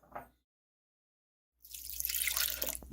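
Water runs from a tap into a jar of whole wheat sourdough starter, a steady close splashing pour that starts after a short silence and continues to the end, following a brief earlier trickle.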